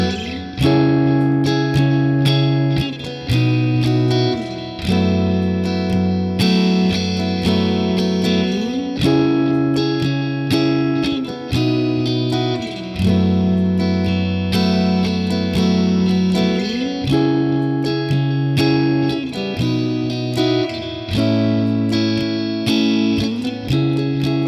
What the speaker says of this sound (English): It's just chords and strumming really, and it sounds like this in total.